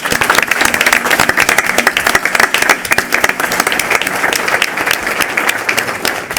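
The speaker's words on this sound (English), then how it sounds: "Let's give them another round of applause." A loud, dense round of applause from the audience at a Chicago Board of Education monthly meeting, many hands clapping steadily and close by for several seconds with no speech over it.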